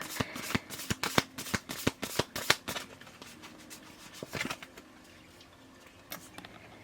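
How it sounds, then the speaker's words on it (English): Affirmation cards are handled and shuffled close up in a quiet room, with a quick run of crisp riffling snaps followed by softer, sparser card sounds. "Let me get you an affirmation card to close up."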